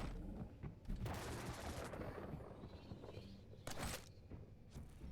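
Rocket blasts in a fast Quake duel come as several bursts of explosive noise over busy in-game action, with two especially strong blasts near the start and toward the end.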